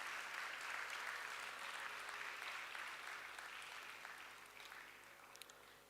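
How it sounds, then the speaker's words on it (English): An audience at a Bharatanatyam arangetram dance recital applauds a musician, a steady, distant wash of many hands clapping that slowly fades. "Let's have a huge round of applause for Sri Chandar Rao Garu."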